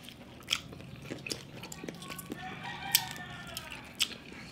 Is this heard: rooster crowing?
yes